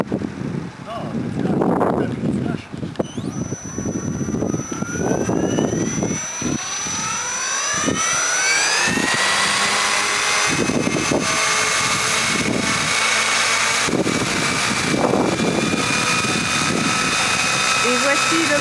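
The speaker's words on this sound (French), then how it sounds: "Et voici le bel hélico prêt à décoller" A model helicopter's small engine spools up before takeoff, a rising whine that climbs steadily in pitch and settles into a loud, sustained scream close by, while people talk over it.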